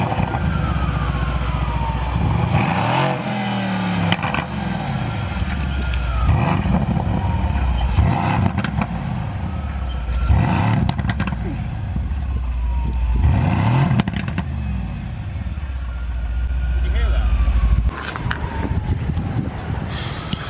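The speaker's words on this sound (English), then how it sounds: "I'm going to rev it and then we'll probably leave" A Mercedes-AMG C63 engine revs repeatedly in loud, rising-and-falling sweeps, several blips in a row with a sustained rumble underneath and a final longer rev near the end.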